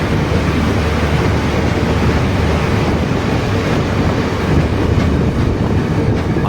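Yal Devi express train running on the rails, a steady loud rumble of wheels and carriage with continuous wind and clatter throughout, heard from on board.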